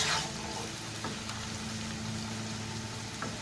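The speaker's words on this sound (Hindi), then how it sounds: "इधर हमारी अनियन जो है वो फ्राई हो रही है" Onions frying in a pan give off a steady, soft sizzle that holds at a low, even level with a few faint clicks from the kitchen.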